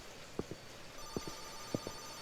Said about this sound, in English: Wait, that's the phone from my room upstairs.